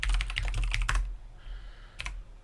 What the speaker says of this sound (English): I don't love typing to my opponents